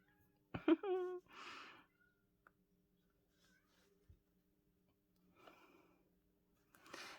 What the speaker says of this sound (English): My cat is singing again.